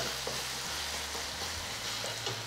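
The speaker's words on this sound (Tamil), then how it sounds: "தக்காளி நல்லா வதங்கி நல்ல ஒரு தொக்கு பதம் வந்திருக்கு" Tomatoes sautéing in a pan for tomato kuzhambu, a steady soft sizzle with occasional faint stirring scrapes, fairly quiet and continuous throughout with no talking.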